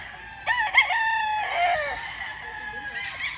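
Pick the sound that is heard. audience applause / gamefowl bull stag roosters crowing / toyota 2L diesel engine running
gamefowl bull stag roosters crowing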